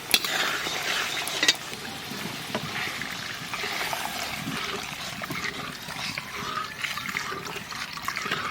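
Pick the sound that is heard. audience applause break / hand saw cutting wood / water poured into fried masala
water poured into fried masala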